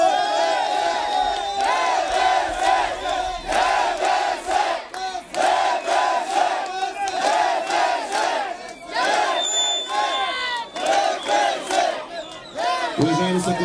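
A crowd at a DPS political rally in Stara Zagora chants in loud, rhythmic unison, repeated rising shouts pulsing steadily for the whole stretch.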